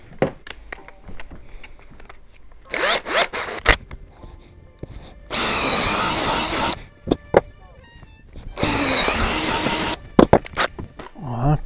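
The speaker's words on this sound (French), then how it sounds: "après, on va faire 2 trous pour fixer le bois derrière" A power drill bores holes into wood while building a screen-printing press, with several loud sustained bursts of motor whine a few seconds long separated by quieter handling clicks and knocks, close up.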